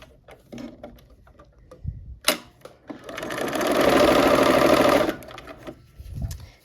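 A sewing machine stitches a short steady run, about two seconds long, joining pieced quilt blocks for a cherry blossom quilt, with scattered handling clicks and fabric rustle before and after.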